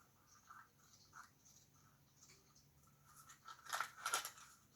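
Scissors snipping paper while a small handmade flower is cut out, quiet close crisp snips that quicken into a louder cluster near the end.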